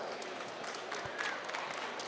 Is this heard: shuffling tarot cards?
no